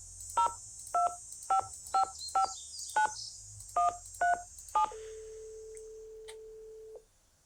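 A phone number is keyed in the Nancy Drew video game, about ten crisp touch-tone beeps in an irregular rhythm, followed by a steady ringing tone that holds and then cuts off.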